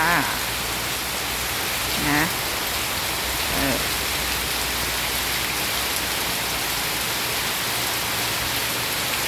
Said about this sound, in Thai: ฟังเสียงฝนกันเด้อทุกคนเด้อ